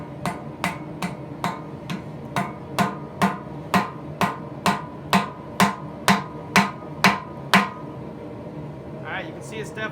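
Hammer blows ring out on a hot rivet set in forged knife-making tongs, about sixteen sharp, evenly spaced strikes building slightly in force, then stopping, followed by a faint rustle.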